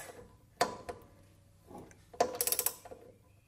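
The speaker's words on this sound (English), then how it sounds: "now I am tightening it up to spec" An oil drain plug is tightened on a Ferguson tractor: a sharp metallic clink, a softer scrape, then a quick run of ratcheting clicks, close and fairly loud with quiet gaps between.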